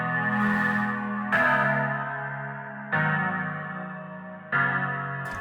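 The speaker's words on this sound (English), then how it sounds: "it adds a chorus to it that completely transforms the piano sound" Piano chords run through chorus and distortion plugin effects, each struck chord ringing out with a thick, wavering, slightly gritty tone and decaying slowly before the next; about four chords, no voices.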